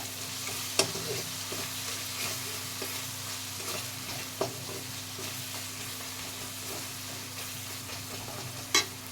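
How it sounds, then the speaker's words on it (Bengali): Sambar masala and spices are stirred while frying in a pan: a low steady sizzle with a faint hum beneath and a few sharp scrapes of the spoon, heard alone. "আবারও আমি ওটাকে ভালো করে নাড়িয়ে নেব।"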